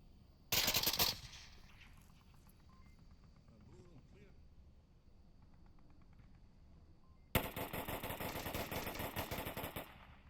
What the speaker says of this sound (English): Snowbird just pre-firing that garage.